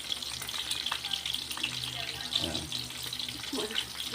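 Cooking oil frying and spattering in a pan, a steady close crackling hiss with occasional louder pops and light clatter, with faint background noise.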